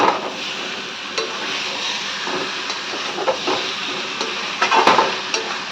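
Potatoes with spices fry in a pan, a steady sizzle with scattered clicks and scrapes of stirring that get busier toward the end, and no voices.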